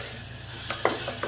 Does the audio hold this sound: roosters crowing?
no